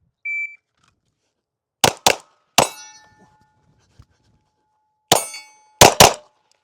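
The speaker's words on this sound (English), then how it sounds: "2 hits on steel." A Glock pistol fires at steel targets: a short electronic beep, then sharp cracks and ringing metallic clangs in quick pairs separated by silence.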